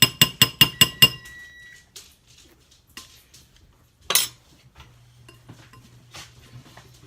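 A small whisk stirring in a bowl in a home kitchen, starting with a quick run of six bright metallic clinks, then sporadic scattered taps and scrapes with quiet pauses between.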